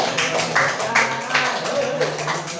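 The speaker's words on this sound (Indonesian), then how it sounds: "Tepuk tangan dulu, bagus." Classroom of grade 8 students clapping hands together, a dense, uneven patter of claps filling the room with a few voices mixed in.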